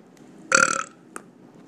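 A girl lets out a single loud, short burp, close and clear, followed by a brief faint sound a moment later, with no talking.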